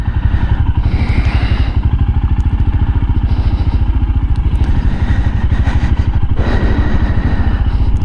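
A Royal Enfield or Honda motorcycle ridden slowly on a road, its engine a steady, loud, close low thumping putter throughout, with slight changes in throttle and no talk.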